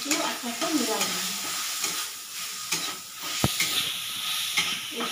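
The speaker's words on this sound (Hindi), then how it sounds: "इसको फ्राई कर लूँ, पेस्ट के लिए थोड़ा हल्दी भी डाल देती हूँ।" Ginger-garlic spice paste with turmeric sizzles steadily in hot oil in a pan, with spatula stirring scrapes and a sharp clack partway through, loud and close with no talking.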